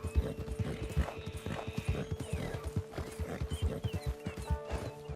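Steady clip-clop of horse hooves trotting in Red Dead Redemption 2 Online at a quick, even rhythm, close and clear, with a brief whinny and ambient game sounds underneath.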